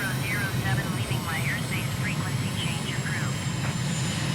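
A MiG jet in a flight simulator game holds a steady, loud engine roar throughout, with someone talking over it and a faint higher tone wavering up and down.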